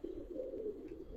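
Giribaz pigeons at a seller's loft in Old Dhaka give a faint, low, continuous coo with soft fluttering undulations, heard close but quiet and alone.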